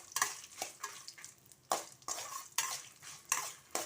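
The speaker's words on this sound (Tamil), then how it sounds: "இதையும் சேர்த்து இதோடவே சேர்த்து தீயாமல் லைட்டாக வாசனை வர பக்குவத்துக்கு வறுத்து" Chillies dry-roasting in a pan for mango thokku: rhythmic scraping strokes of a spatula against the pan, repeating about every half second over a faint crackle, fairly quiet and close.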